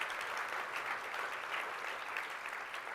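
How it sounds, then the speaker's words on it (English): Audience applause for a panel at an insurance and climate-risk event: steady, dense clapping that holds at an even level for the whole stretch, with no talk over it. "Give them a round of applause."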